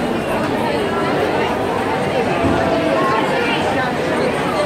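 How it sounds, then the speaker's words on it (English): Dense, steady crowd chatter fills a busy Sydney fish market, with many overlapping voices close and far and no single speaker standing out. "So much crowd"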